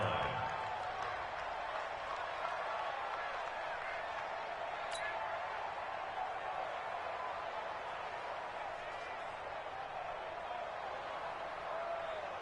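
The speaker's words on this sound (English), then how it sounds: "That's why you hear that clapping on the sidelines" Applause and clapping rise from the sidelines at a football game as a steady wash of crowd noise lasting the whole clip, with a sports commentator talking over it.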